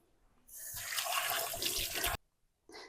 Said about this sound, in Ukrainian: І лишається тільки змити це все під водичкою.